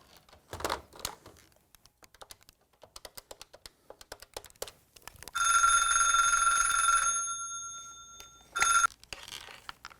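A telephone rings in two bursts, a long shrill electronic ring and then a short one, between soft keyboard typing and clicks in a quiet room.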